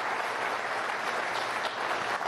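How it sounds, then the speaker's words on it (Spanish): Dense, sustained applause from a crowd at a Venezuelan government event, greeting a minister, steady and fairly loud with no talk over it. "un aplauso al ministro, Jorge Eliezer Gaitán."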